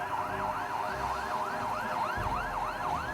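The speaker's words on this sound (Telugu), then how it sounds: "సరిగ్గా అదే సమయానికి దూరం నుంచి సైరన్ మోత," A police jeep's wailing siren rising and falling in quick regular sweeps, several cycles in a row, fairly steady and moderately loud rather than close.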